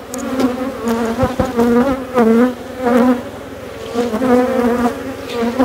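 Honeybees buzz loudly and close by around a hive box, a dense droning hum with wavering pitch as many bees fly around.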